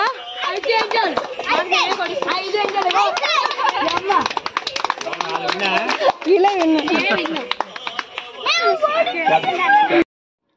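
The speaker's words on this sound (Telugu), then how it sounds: "క్లాప్స్ కొట్టారా?" A crowd of children clap in dense, continuous bursts at a children's games event during Ganesh Navaratri festivities beside a pandal, with lively chatter and shouting mixed throughout until it stops abruptly.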